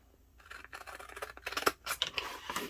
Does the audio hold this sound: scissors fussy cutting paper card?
yes